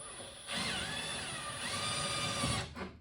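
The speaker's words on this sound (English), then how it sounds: "I just got a new spot weld drill, which I think might work well for these rivets" A spot weld drill drilling out rivets on a Willys CJ-2A Jeep whines steadily for a couple of seconds, close and fairly loud, then spins down.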